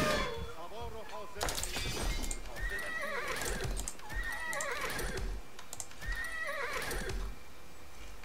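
Horses whinny and neigh repeatedly over clip-clopping hooves in the strategy game Age of Empires IV, loud battle-unit calls rising several times amid busy game noise, with faint crashing in the mix.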